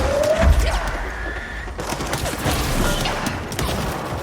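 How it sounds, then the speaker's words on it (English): Explosions and crashes from exploding enemies in the action video game Control burst out amid dense combat noise, with several sharp blasts and mechanical clatter layered over constant rumble. "I hate these exploding things."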